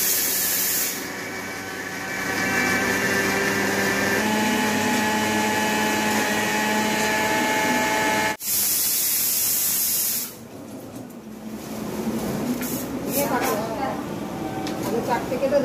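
A mixer grinder whirs steadily while grinding melon seeds for paneer in a home kitchen, running loud for about eight seconds, cutting off briefly, then a second burst, followed by kitchen clatter and faint talk.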